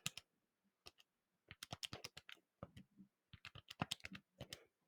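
Fingers tap number keys on a calculator in quick, irregular bursts of sharp clicks, close and clear, with short pauses between the runs of presses.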